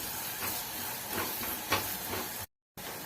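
Onions sauté in a pan for homemade pizza sauce, giving a steady soft sizzle and hiss with faint stirring bumps and a brief dropout near the end.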